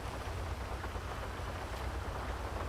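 Rain falls in GTA Online, heard as a faint, steady patter with a low rumble beneath, no voices.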